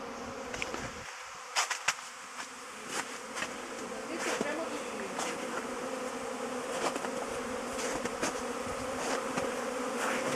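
A dense, steady buzz of many honey bees on their first spring flight around apiary hives, close and continuous, with occasional louder passes as individual bees zip near.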